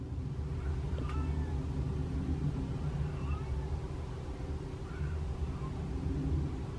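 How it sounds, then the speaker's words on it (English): Short meows from a feral cat greeting someone at breakfast time outdoors, moderately close against a steady low engine-like rumble, with a couple of brief calls spread across the stretch. "As soon as he saw me, he started meowing."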